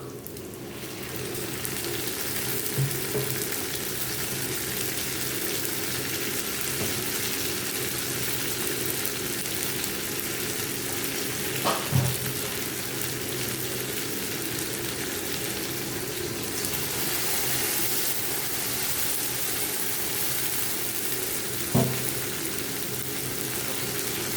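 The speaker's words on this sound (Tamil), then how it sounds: "பேஸ்ட்டை சேர்த்துட்டு நல்லா ஒரு ரெண்டு மூணு நிமிஷம் இதுலேயே நல்லா வதங்கி வரணும்" Onions and ground mint paste sautéing in a pan for mint rice, a steady soft sizzle that runs throughout, with a few faint clinks of a spoon against the pan.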